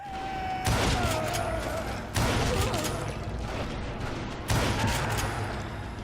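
Pistol gunfire in the Western shooter Call of Juarez: Gunslinger comes as three loud, sharp shots spaced a couple of seconds apart, with brief echoing tails, over a continuous game background.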